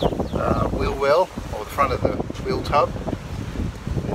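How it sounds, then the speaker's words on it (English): Outdoor wind buffets the microphone in gusty, rumbling bursts, continuous under a man's close speech during work on a Ford Falcon 500 XY ute restoration. "Sorry about the wind, it's always seems to be windy here at the moment"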